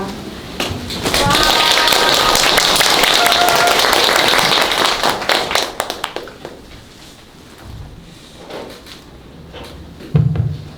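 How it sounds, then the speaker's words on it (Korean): A lecture audience at a Korean anti-poverty film festival gives loud applause to welcome a speaker. The clapping fades after about five seconds, leaving scattered taps, room noise and a voice starting to speak. "박수 크게 맞아주시면 감사하겠습니다"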